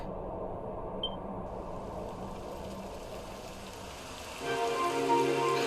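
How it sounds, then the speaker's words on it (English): Steady rain patter fills the scene in the video game Dragon Quest XI: Echoes of an Elusive Age, a single faint beep early on, then the downpour grows louder near the end. "It would have to go and start raining, wouldn't it?"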